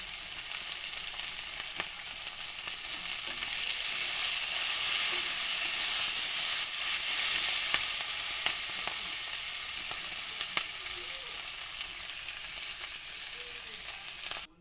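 Green beans frying in a pan for a Sunday chicken recipe, a continuous bright sizzle that swells slightly in the middle, with a few scattered clicks and scrapes of stirring.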